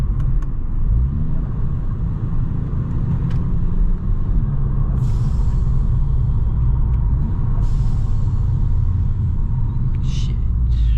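A 280 bhp turbocharged Volkswagen Scirocco drives along, heard from inside the car. A steady deep engine and road rumble runs throughout, with a few brief hissing bursts from the turbo.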